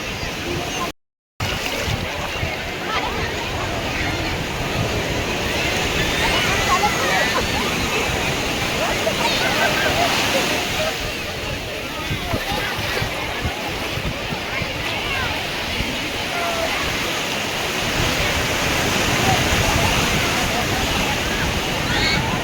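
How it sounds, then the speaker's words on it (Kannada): Sea waves breaking at Panambur beach in Mangalore, a constant loud rushing surf roar with swelling surges, wind buffeting nearby, and people talking over it. "ಅಯ್ಯೋ ದೊಡ್ಡಲೆ ಬತ್ತೈತೆ ಕಣ್ರು."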